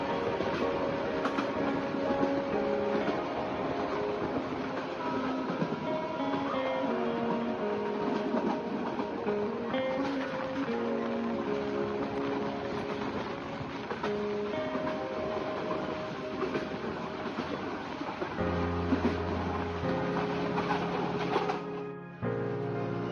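Agnibina Express passenger train running on rails out of Dhaka toward Dhaka Airport railway station, a steady, dense rolling rumble with clattering tones lasting throughout, heard from on board.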